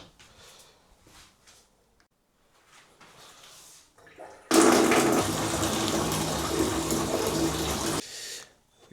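Water gushes loudly from a tap for several seconds, a steady broadband rush that stops abruptly, with quieter rustling and handling noises before it.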